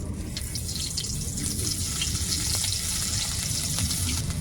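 Panch phoron and grated ginger fry in hot oil for a vegetarian young jackfruit curry, a loud continuous crackling sizzle with scattered small pops throughout.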